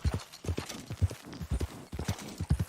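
Horse hooves clip-clop in a steady rhythmic gait in the video game Red Dead Online, close and clear, with no whinny evident.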